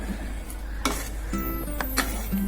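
Potatoes frying in a pan over a medium flame, a faint steady sizzle broken by a few sharp clinks and scrapes of a utensil.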